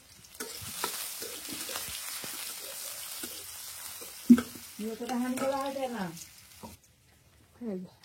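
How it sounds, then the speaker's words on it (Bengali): Garlic sizzles and crackles in hot oil in a village kitchen, a steady frying hiss with stirring scrapes, while voices speak briefly nearby. "তেলটা গরম হয়ে গেছে, এই যে এখানে রসুন রাখছি, তেতো কইরা এই রসুন দিয়ে দিই তেলের মধ্যে।"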